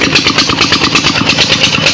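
A diesel engine driving a tubewell pump on a farm runs loud and close, with a fast, even, throbbing chug that holds steady throughout.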